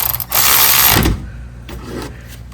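Ratchet working on the brake caliper bolts of a 2014–2019 Toyota Corolla during a front pad and rotor job: a loud, dense burst of mechanical clicking for most of a second, then fainter shop noise with a few softer clicks.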